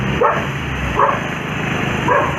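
A dog barks three times in sharp, separate bursts at a passing vehicle on a road near a petrol pump in Virar, heard moderately close over a steady rumble of engine and road noise.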